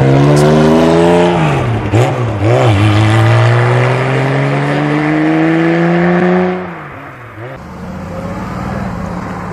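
A Ferrari F430 sports car driving past at the Rallye de Paris 2016 in Ouzouer-sur-Trézée, a loud close engine roar rising through the gears with brief revs, then fading as it moves away.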